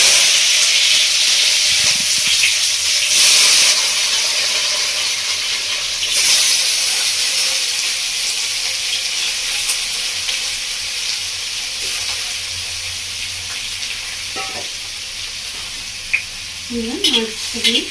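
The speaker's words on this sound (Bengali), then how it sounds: "আনারসটা দিয়ে ভালো করে কষিয়ে নেবো মশলাটা।" Spices and pineapple pieces frying in oil for a Bengali village-style chutney: a loud, continuous sizzle and hiss with occasional stirring scrapes, fading slightly over time, and a brief voice near the end.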